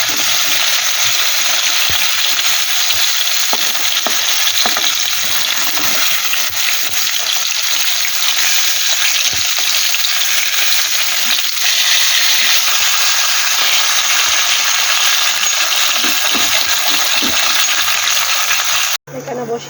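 Bhetki fish frying in a hot pan, a steady bright sizzle and hiss running continuously with small pops and crackles, close and loud, ending abruptly near the end.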